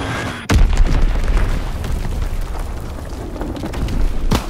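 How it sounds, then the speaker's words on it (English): A bomb blast from an enemy strike in a multiplayer shooter hits with a sudden loud boom, then a long rumbling roar that stays heavy and fades slowly. A second sharp burst lands near the end. "Enemy bomb incoming. Get to cover."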